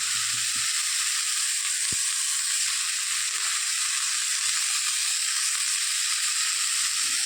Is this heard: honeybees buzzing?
no